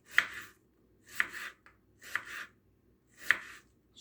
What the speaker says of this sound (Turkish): ince ince soğanlarımı güzel bir şekilde kesiyorum